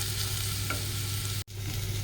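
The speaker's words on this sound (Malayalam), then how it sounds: "അത് നന്നായി മൂത്ത് വരുന്ന വരയ്ക്ക് ഇളക്കി കൊടുക്കാം." Crushed pepper fries with onions in a pan, a close, even sizzle with a low steady hum beneath, briefly cut off once near the end.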